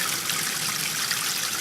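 Steady trickle of water splashing from an aerator in a small backyard fish pond, a continuous close, bright, fizzy dribble with no pauses or voices.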